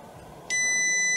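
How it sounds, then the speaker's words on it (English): A desoldering station gives a steady electronic beep halfway through as the desoldering gun tip touches ground, a clean sustained high tone that cuts in suddenly over faint room hiss. "you can hear that beeping, so that's grounded"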